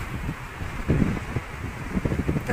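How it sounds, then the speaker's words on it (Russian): Wind buffets across the waterfront with the sea rolling beneath it, a rough, gusty rush that swells and dips over a few seconds. "Такое море."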